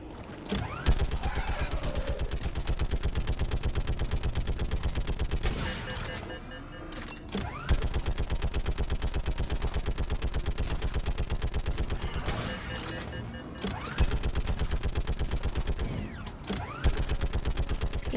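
Mounted gun firing in Mass Effect Legendary Edition: long, sustained rapid-fire bursts with a dense mechanical rattle, broken by brief pauses, with in-game effects between bursts.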